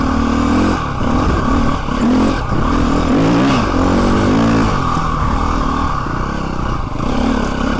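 A KTM EXC-F 250cc dirt bike engine revs loudly and continuously up close, pitch rising and falling with the throttle, with rattling clatter underneath.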